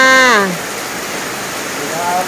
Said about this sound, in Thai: ฝนตกหนักเลยนะคะเพื่อนๆ